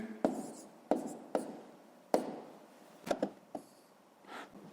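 Pen strokes on paper as numbers are written by hand during a sixth-grade maths exercise, a series of short scratchy taps and brief scribbles at an uneven pace, close and fairly quiet, with no talk.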